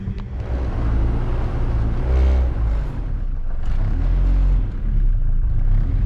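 An all-motor Honda CRX race car with a B17 engine and oversized cams revs hard at a drag strip, its loud, sustained engine roar close and continuous with slight rises in pitch.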